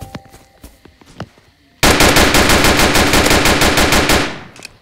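Sustained automatic gunfire in the Roblox police game Notruf Hamburg, a loud rapid burst of about three seconds that starts abruptly after quiet scattered clicks and footsteps, then tails off.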